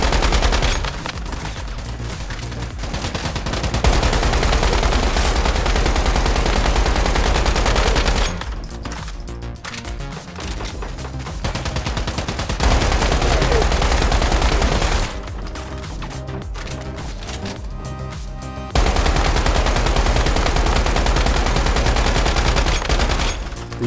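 Assault rifle fire in a video game comes in long, loud, sustained bursts of rapid shots, broken by a couple of brief pauses.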